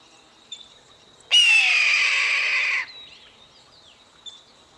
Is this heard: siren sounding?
no